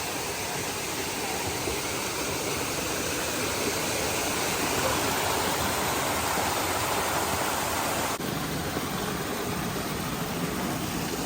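Mountain streams rush down the rain-soaked, slippery slopes of Tai Mo Shan near Ng Tung Chai, a steady, loud broadband roar of flowing water with no break.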